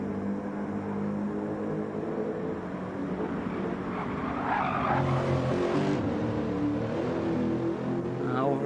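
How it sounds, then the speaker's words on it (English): A Lexus V8 race car roars past at the Nürburgring during 24-hour race pre-qualifying, a continuous engine drone that swells toward the middle, with a commentator talking over it. "that car not even sounding like it's working. It's a funny sounding V8 that."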